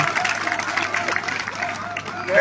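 Crowd applause and cheering at a gathering honouring mothers, a continuous wash of clapping mixed with crowd babble and talk, swelling louder toward the end.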